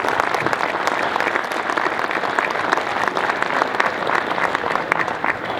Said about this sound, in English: So I want you all to give yourself a bit of applause